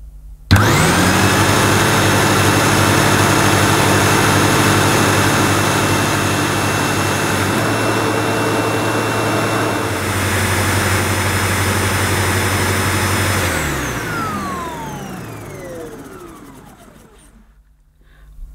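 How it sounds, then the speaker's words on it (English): A Sebo Ensign Stealth upright vacuum cleaner, under repair for a fault, switches on with a sudden loud whine and runs steadily and close for about thirteen seconds, then its motor winds down and fades to silence. "Let's switch the machine on, see if any of these lights illuminate."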